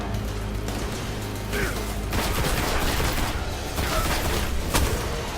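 Constant heavy gunfire in the video game Destiny, with dense overlapping shots and explosions forming a loud continuous barrage, with brief spoken remarks underneath.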